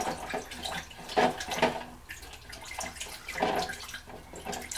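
Paintbrush being swished and rinsed in water, producing soft splashing bursts and drips in a few uneven pulses, fairly quiet and close.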